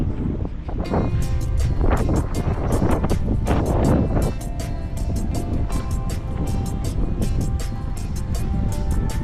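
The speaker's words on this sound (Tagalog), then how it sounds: "Ang hangin dito, guys." Gusty wind during heavy rain and flooding buffets the microphone in rough bursts over a low rumble, with sharp rhythmic tapping near the end; no clear talk.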